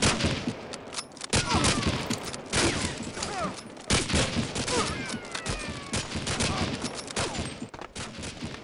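Gunfire in the Toy Soldiers video game comes as scattered bursts of shots and rapid fusillades of varying loudness, mixed with other game effects and brief voices.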